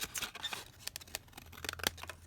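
Scissors snipping through paper ephemera for a junk journal, a quick series of crisp close cuts with short pauses between them.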